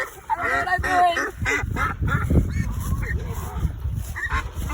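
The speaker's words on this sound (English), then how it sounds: "This is 16 ducks." A flock of sixteen ducks, one brown hen among them, honks and quacks in loud overlapping calls close by, with a person talking over the birds.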